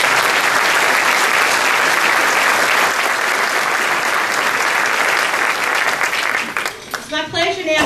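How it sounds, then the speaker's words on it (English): Applause from an audience at a chamber of commerce annual meeting: sustained, dense clapping from a large crowd for several seconds that thins out near the end as a voice begins speaking. "Please join me in a round of applause and thank you."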